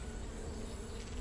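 Honey bees in a hive, a dense, steady buzzing drone heard close and constant, with no talking.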